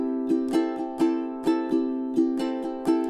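Ukulele strummed in a shifted island (calypso) pattern, a down-down-up-up-down-up rhythm with the accents moved, ringing bright chords with crisp percussive strokes repeating steadily and close, alone without voices.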